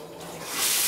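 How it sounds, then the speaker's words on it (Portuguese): An electric shower being switched on, with running water building into a broad hiss that swells louder toward the end of the short moment. "Vamos ligar o chuveiro?"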